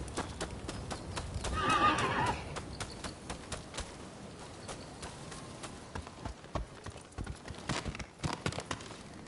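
Horse whinnies once loudly near the start, followed by clopping hoofbeats and scattered footsteps in a feudal-Japan action video game, Rise of the Ronin, with no talk over it.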